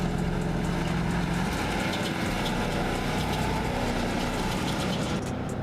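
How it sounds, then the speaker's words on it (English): Land Rover Discovery 2 on 20 psi tires, limited to third gear, accelerates hard up a long sandy hill: a steady, loud low engine drone under constant rushing noise, with the pitch rising partway through. "Intense acceleration and the Land Rover is rushing forward"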